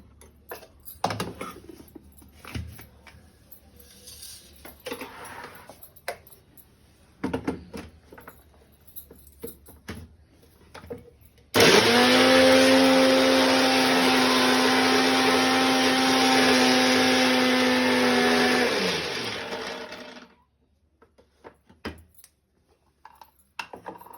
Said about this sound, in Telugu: ఇలాగా మిక్సీలో వేసి, చిన్న మిక్సీలో వేస్తే మంచిగా జ్యూస్ వస్తుంది.